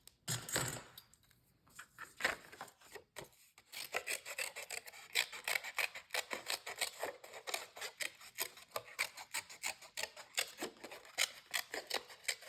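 Scissors cut out a paper shape for a handmade mini album, with close, quiet snips and rasping paper strokes that come in quick, irregular runs for the whole stretch.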